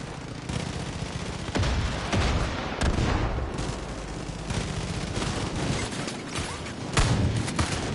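Gunfire in the video game Far Cry 5 on PS4, dense bursts of shots and booming blasts layered over a loud, continuous battle din, with sharper cracks standing out at intervals and no talking.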